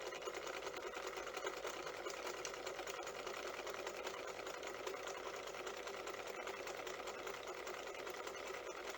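Sewing machine running steadily while stitching a buttonhole, a continuous close whirring hum with fast regular stitch rhythm throughout, no voices.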